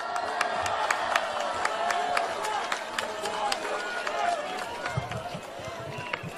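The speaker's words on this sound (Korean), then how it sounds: "여러분 큰 박수로 맞아주십시오" A large crowd at an outdoor political rally on a hot day applauds and cheers to welcome a speaker, with dense, continuous clapping and shouts held at a steady level throughout.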